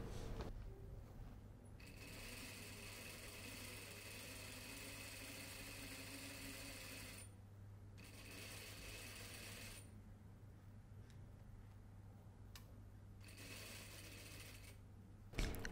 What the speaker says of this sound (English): We're stitching the facing for the wrap-over.